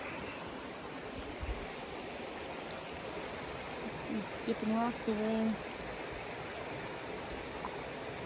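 A stream of water in Zion National Park rushes steadily as a broad, continuous wash with no break, while someone talks briefly over it.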